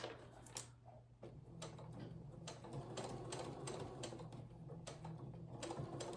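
Sewing machine stitching the binding along a quilt edge, a steady mechanical whir with rapid needle ticking running throughout, close and moderately loud.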